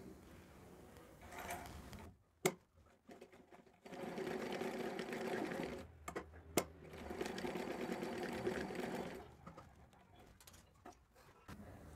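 A sewing machine running with thread after its bobbin case was fixed and tightened, whirring in steady bursts of several seconds with short pauses and clicks between, close and fairly quiet, with no talk.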